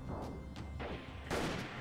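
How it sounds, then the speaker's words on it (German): Several sharp video game gunshot bursts ring out at irregular intervals, the last one louder and closer, over a rumbling background. "da kommen noch immer Schüsse rüber"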